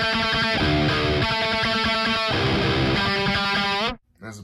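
Electric guitar through the Neural DSP Archetype Abasi plugin plays a loud, distorted rhythmic chugging riff of repeated chords, then cuts off abruptly near the end.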